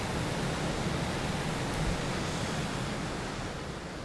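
Steady, loud rush of ocean surf and wind while crossing open sea in the Just Cause 2 multiplayer game, a continuous broadband roar without pauses or voices.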